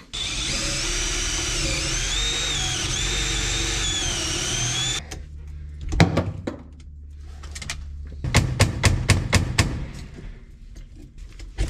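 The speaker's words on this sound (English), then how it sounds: "I'll bet you instead of drilling that, I could have just hammered the pin in" A power drill whines steadily at high speed for several seconds drilling out a pin on a 1978 Lincoln, then stops, followed by clunks, knocks and short bursts of tool noise.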